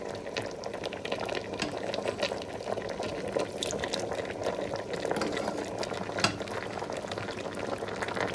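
Bitter leaf soup (ofe onugbu) with pumpkin extract added bubbles and simmers in a pot, a soft, steady boiling murmur with occasional faint clinks.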